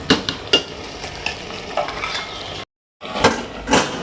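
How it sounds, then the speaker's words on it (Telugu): Bottle gourd pieces with green chilli go into a hot pan and are stirred, bringing close scraping and clinks over a frying sizzle, broken by a brief silent gap. "ఇప్పుడైతే కూరలు అయితే వేస్తున్నా."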